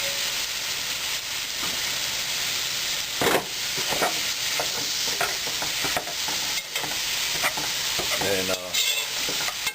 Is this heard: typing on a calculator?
no